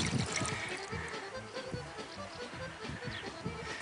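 About 600 grams of water is poured into a bowl for krastachki dough, a faint, continuous trickling splash heard close up in a quiet kitchen.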